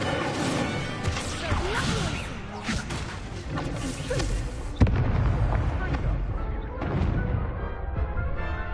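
Incendio fire spell cast in Hogwarts Legacy, a burst of crackling, crashing fiery blasts and impacts over dense combat noise, with a sharp heavy hit midway and rumbling effects after.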